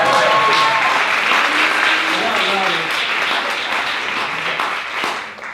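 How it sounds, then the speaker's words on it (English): An audience gives the Kansas City Chiefs a loud round of applause, dense clapping close by with voices mixed in at the start, tapering off toward the end. "let's give the Kansas City Chiefs a round of applause"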